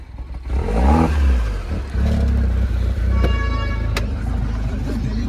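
A Mini Cooper engine starts with a key and turns over, then revs loudly and close in a deep rumbling roar that settles into a steady idle with a few clicks and clatters.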